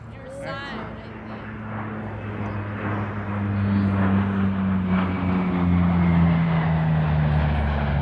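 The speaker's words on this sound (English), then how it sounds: "Đây, chiếc máy bay này chuẩn bị cất cánh tiếp." Airplane taking off at the Comox airshow, a steady engine drone that swells louder over several seconds, heard from the crowd with people talking nearby.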